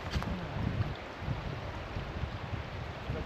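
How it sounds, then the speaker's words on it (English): A small stream in the mountains, on a hike near Big Timber Falls, flows with a soft, steady wash of water, faint and continuous with no talking. "stop here at this beautiful little stream"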